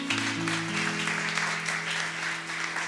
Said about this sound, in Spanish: Listo, con un aplauso.